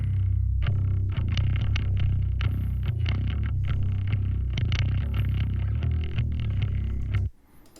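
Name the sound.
bass guitar DI through clean amp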